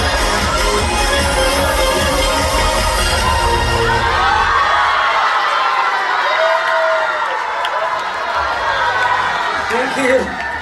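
An audience at a music video awards show cheering loudly, a dense continuous roar of shouting and whooping crowd voices that fades slightly toward the end, with a voice on the sound system mixed in.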